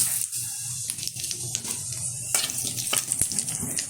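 Whole cumin seeds fry in oil left over from frying prawns, a continuous hiss with scattered crackles and pops, close and fairly loud.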